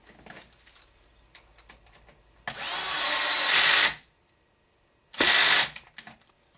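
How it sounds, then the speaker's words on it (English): A power wrench tightens bolts on an HPI Baja SS RC car, two loud, close bursts of whirring lasting about a second and a half and half a second, with small clicks and handling noises between. "Change the bit on my wrench. I'm going to go ahead and tighten those up."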